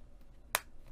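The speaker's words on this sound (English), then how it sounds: "go ahead and snap that cuff on" A single sharp snap as a cork or leather cuff is fastened onto a knit infinity scarf, close and brief against a quiet background.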